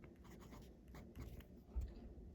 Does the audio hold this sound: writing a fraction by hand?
yes